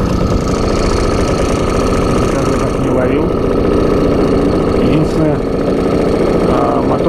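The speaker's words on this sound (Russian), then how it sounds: "мотор тарахтит, лодка плывет" Outboard motor on a small boat on a reservoir, chugging steadily at low speed while trolling, a continuous close rattling drone throughout with someone talking over it.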